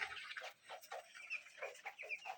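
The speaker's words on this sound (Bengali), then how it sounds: "আমি মুরগি পালন করতেছি" Chickens clucking in a small experimental poultry shed on a farm during morning feeding: short, close, repeated clucks in an uneven rhythm, with no voices.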